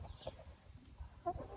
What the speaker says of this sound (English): Oh my God, chicken attack.